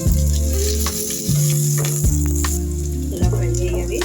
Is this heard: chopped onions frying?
yes